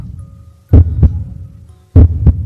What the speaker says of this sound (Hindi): मेरा दिल जोर से धड़कने लगा।